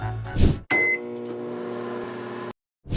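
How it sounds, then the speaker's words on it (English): A microwave oven hums steadily with a tonal drone after a brief clunk of the door and start beep, then cuts off abruptly. "Then microwave it for 50 seconds."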